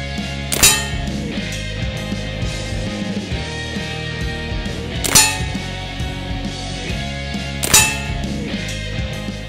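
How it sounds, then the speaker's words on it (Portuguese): Three sharp pellet shots from a Beeman 13625 bullpup 5.5mm PCP air rifle with metallic clanging target impacts, spaced a few seconds apart, over a steady low background hum. "primeiros 3 disparos com o rifle Pro Max"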